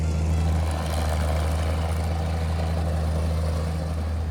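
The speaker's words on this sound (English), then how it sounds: "I'm in a rice paddy as tractors plow the land." Out in a sun-baked Malaysian rice paddy, a tractor plowing the field gives off a continuous low droning engine hum, steady and moderately distant, with no voices.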